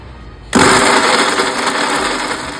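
A mixer grinder starts abruptly and roars steadily while grinding mango chutney with onion, a loud, close whine with rattling blades that holds to the end.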